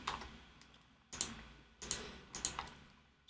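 Layered clap and percussion rim shot from an electronic music track, heard alone as a handful of sharp, bright hits with short tails repeating in a steady pattern.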